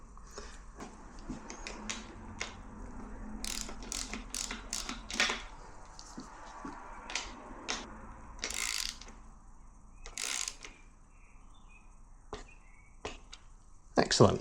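A torque wrench tightening bolts on the lower legs of a Fox 38 suspension fork, with bursts of rapid ratcheting clicks and metallic taps up close, and a voice speaking briefly.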